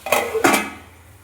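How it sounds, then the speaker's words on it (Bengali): A lid goes onto a cooking pan on the stove while chicken pasta cooks, two quick metallic clanks close by followed by a short ringing decay, with no talking. "এবার ঢাকনাটা দিয়ে দিচ্ছি"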